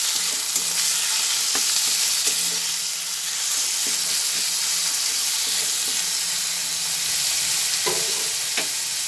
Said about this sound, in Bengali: এরপরে আবার তেলের মধ্যে এগুলো ভালো করে নাড়াচাড়া করে নিই